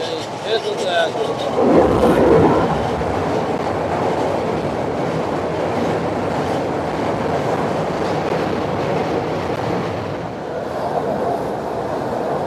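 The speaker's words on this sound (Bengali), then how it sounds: "এই সেতু দিয়ে ট্রেন 120 কিলোমিটার স্পিডে পারাপার হতে পারে" A train crosses the Jamuna rail bridge in Bangladesh, built for 120 km/h crossings, a steady heavy rumble with clattering wheels on track that stays loud and close throughout.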